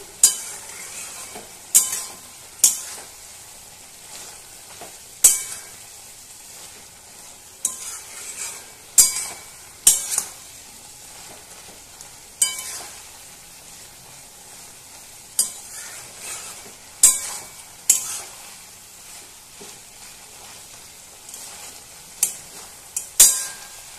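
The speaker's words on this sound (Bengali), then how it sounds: "আবারও নাড়াচাড়া করে ভালোভাবে মিশিয়ে নিচ্ছি।" A spatula scrapes and knocks repeatedly against a wok while food fries, with sharp clacks at irregular intervals over a soft, steady sizzle, heard close with no talking.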